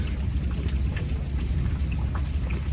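Steady rain patters down at a carp fishing lakeside, a dense even hiss with scattered droplet ticks and a low rumbling undertone, no voices.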